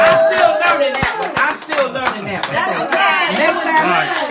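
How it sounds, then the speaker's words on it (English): Clapping and cheering from an audience after a saxophone recital, a dense, continuous wash of applause with voices mixed through it throughout. "And the crowd went wild"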